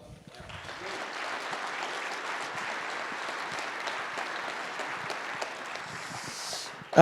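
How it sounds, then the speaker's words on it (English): Audience applause filling a lecture room at a ski instruction academy event, dense, steady clapping from many hands that holds evenly for several seconds, then a louder burst at the very end. "A big round of applause, huh?"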